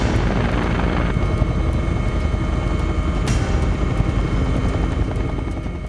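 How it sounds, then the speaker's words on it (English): An AgustaWestland AW139 helicopter flies fast and low over the Wicklow Mountains in Ireland, its loud, steady rotor and turbine roar filling the whole stretch close by, with a sharp swell of whine midway. "flying fast and low over the Wicklow Mountains, is an Augusta Westland 139"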